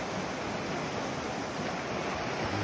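The Chisone river in Val Chisone, Piedmont, Italy, rushes with a steady, dense roar from nearby, unbroken throughout with no voices.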